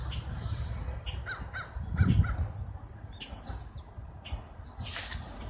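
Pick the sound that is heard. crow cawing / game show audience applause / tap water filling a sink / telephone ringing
crow cawing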